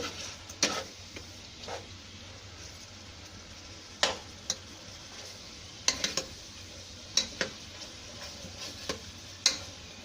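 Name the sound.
mutton stirred with a spoon and seared on high heat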